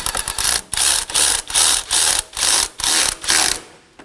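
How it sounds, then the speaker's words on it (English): A ratchet tightens a 10mm fan mounting bolt on a radiator of a 2018-2024 Chevrolet Equinox 1.5L, giving loud close bursts of rapid clicking in a steady rhythm, about eight strokes. "Now let's install our two 10mm fan mounting bolts."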